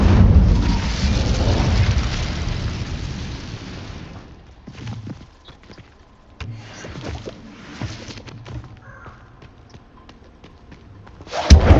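Incendio fire spell cast in the Hogwarts Legacy video game: a loud, sustained whooshing roar of flame for about four seconds, then quieter crackles and bursts, ending in a sharp loud burst.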